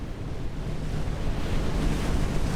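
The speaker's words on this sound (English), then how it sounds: "Just listening to the waves." Ocean waves in the NAUTIS Home Ship Simulator game, on a Channel-crossing training run: a steady, full rush of surf with a windy hiss, continuous and fairly loud, with no voices over it.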